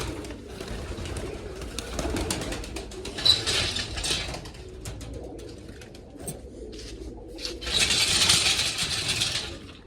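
Pigeons coo repeatedly at close range after being let out of their loft, with soft bursts of wing flutter and scuffling among them; no one speaks.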